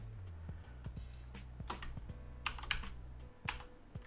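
Keys clatter on a computer keyboard as a sticky note is typed: scattered quick taps, close and quiet, over a faint low hum.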